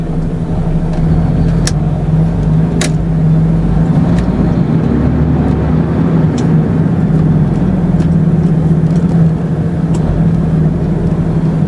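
A truck towing a 19m trailer through a small Isle of Man town: a loud, steady low engine drone from inside the cab, with a few sharp clicks and rattles over it.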